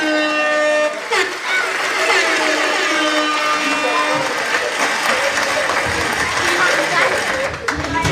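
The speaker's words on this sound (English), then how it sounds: "See? Clap around." Dense applause from a wedding audience fills the clip, steady and loud throughout, with some voices and tonal sounds mixed in.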